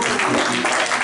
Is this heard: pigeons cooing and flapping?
no